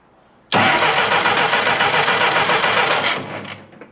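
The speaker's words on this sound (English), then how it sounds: "now let's see how it sounds with some compression, how it turns over." Jeep Willys engine being cranked over with compression: after a brief quiet moment a loud, close, rhythmic chugging starts and runs steadily for about two and a half seconds before fading out.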